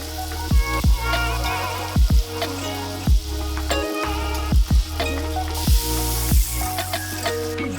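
Butter sizzling and frying in a hot pan for burgers, a steady loud crackle with sharp intermittent pops and a few low knocks, close up with no voices.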